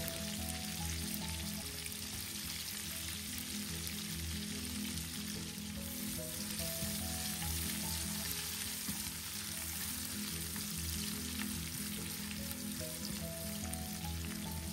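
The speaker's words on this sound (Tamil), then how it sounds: "இந்த நெத்திலி கருவாடு வந்து நல்லா ஃப்ரை ஆகணும்" Dried anchovies and sliced onion fry in a pan, a steady dense sizzle crackling evenly throughout at moderate volume, with no talking.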